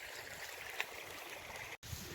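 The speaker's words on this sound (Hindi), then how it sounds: "ये आबू का निर्मल गंगा जल की तरह बहता हुआ पानी है।" Clear stream water flows at Mount Abu in a soft, continuous wash of burbling, faint and steady, with one brief dropout and no voices.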